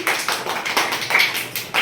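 Children clap their hands in a group clapping game, a run of sharp, fairly close claps in an uneven rhythm, about seven or eight bursts across the stretch.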